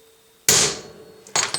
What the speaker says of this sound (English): I have the old-fashioned type of center punch where I have to use a hammer